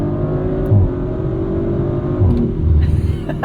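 A 2023 Audi RS5 Competition with its 2.9-liter twin-turbo V6, running on cold snow tires and pulling hard in third gear, giving a loud steady engine drone from inside the cabin.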